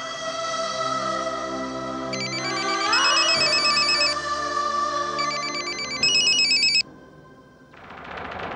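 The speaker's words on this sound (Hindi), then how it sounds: "मानव को फोन नहीं कर सकती ना, इसलिए तुझे फोन किया." A telephone rings in a TV drama scene with a repeating electronic ringtone pattern over a musical background score, fairly loud and steady for several seconds before stopping.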